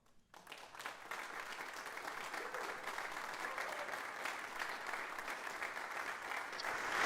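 Steady applause from an audience fills the whole stretch, a dense, even wash of clapping that swells slightly toward the end.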